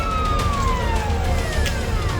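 A fire brigade vehicle's siren wails steadily with a falling tone, loud and continuous against traffic rumble, as more than a dozen fire engines respond to a plastic scrap factory fire.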